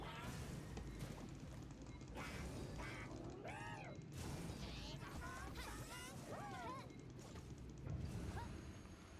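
Quacking bird calls in a video game ring out as a few short, rising and falling cries over a dense, steady bed of game noise, with a voice talking throughout.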